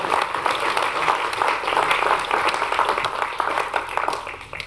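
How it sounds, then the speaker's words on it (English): A conference audience applauds at the end of a copywriting talk, a loud, sustained and dense burst of clapping from a full room that holds steady throughout with no voices over it. "A big round of applause for my beautiful assistant, Mel."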